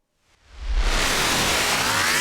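Six frequency-echo effects stacked together create a thick, noisy wash of glitchy artifacts that swells in from silence, with a deep rumble at the start, and then holds at a loud, steady level.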